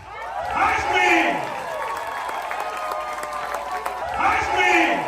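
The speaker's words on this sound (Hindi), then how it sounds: "तो आप सबकी भरपूर तालियों में" Audience applause at a stand-up comedy show, sustained crowd clapping throughout with occasional cheers and voices rising over it, loudest at the start and end.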